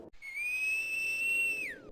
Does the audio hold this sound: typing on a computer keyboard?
no